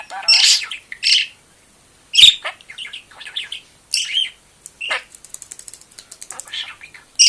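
A talking pet parrot gives sharp, loud squawks and bursts of chirps and whistles, ending in a rapid ratcheting trill, with short silent pauses between calls and no other voices.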